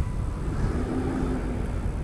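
A car rolls by on a busy New York City street, a soft steady rumble of engine and tires mixed with faint traffic noise, fairly distant and unbroken.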